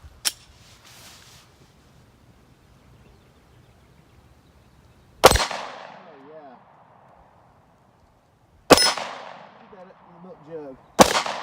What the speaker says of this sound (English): We're just going to shoot at our steel down here.